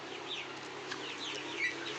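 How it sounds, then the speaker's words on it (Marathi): Country chickens, crossbred and incubator-hatched, cluck and chirp softly at a distance on a poultry farm over a steady low background hum, with no talking. "आधीच्या बॅचचे क्रॉस इन्क्युबेटरद्वारे तयार केलेले गावरान कोंबड्या"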